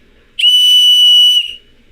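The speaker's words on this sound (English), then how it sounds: "So it sounds like a whistle." A single loud, steady whistle tone sounds alone for about a second, starting and stopping cleanly, with quiet before and after.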